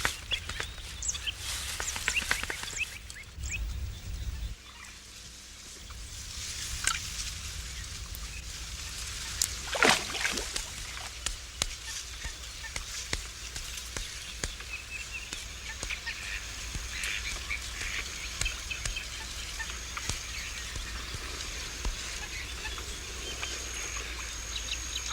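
Geese and other waterfowl honk and call across a wetland marsh in Andalusia, with a steady bed of insect and bird sound and one louder nearby call rising briefly midway.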